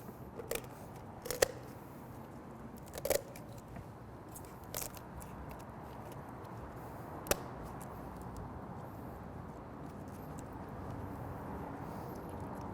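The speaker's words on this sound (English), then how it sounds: "we're just going to cut right along the side of that backbone." Wüsthof poultry shears crunch through a turkey backbone in a few sharp, isolated snips spread over a quiet, hissy background, with no talking.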